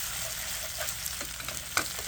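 Pork stir fry sizzles and spits in hot oil in a pan, a continuous crackling hiss with scattered pops, close and alone without any voices.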